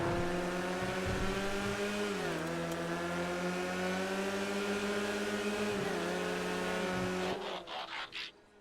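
Classic sports cars racing in GTA FiveM, a steady loud engine drone with harmonic pitch shifts as gears change, continuous and close, fading near the end.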